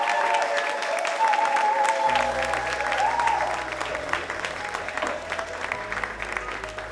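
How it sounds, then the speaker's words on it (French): Enthusiastic applause from a television singing show audience fills the whole stretch, while low musical tones come in underneath partway through. "je vous demande d'applaudir maintenant la ravissante, pétillante, sublime Daisy."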